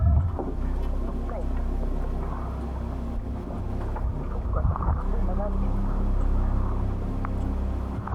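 A small boat moves on open water in Mountain Province, with a low engine drone, wind buffeting the microphone, and people talking over it.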